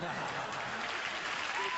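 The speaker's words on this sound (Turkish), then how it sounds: "Alkışlarınızı efendim." Audience applause at an award ceremony, a continuous wash of clapping from many people, steady and moderately loud through the short stretch, with a faint chuckle underneath.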